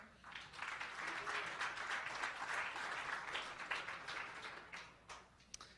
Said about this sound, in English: please give a big round of applause to our first panel today